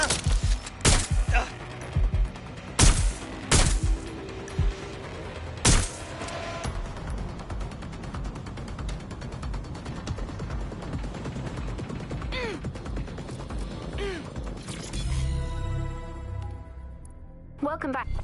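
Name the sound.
gunfire in the video game Watch Dogs: Legion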